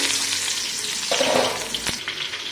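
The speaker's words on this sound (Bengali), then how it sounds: "তেল আর ঘি গরম হয়ে গেছে পেঁয়াজ কাটা দিয়ে দিচ্ছে" Chopped onions fry in hot ghee and white oil for a chana dal pulao, giving a steady, close sizzle that swells briefly with a stir before settling back to a constant hiss.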